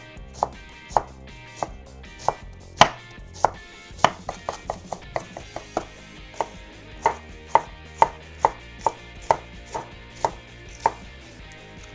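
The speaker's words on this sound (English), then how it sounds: "step one in the process is we are going to slice up our veggies" Vegetables, including cilantro, are sliced with a knife on a cutting board: a run of sharp, distinct chops, some spaced and some in quick bursts, close and crisp over a quiet room with no talking.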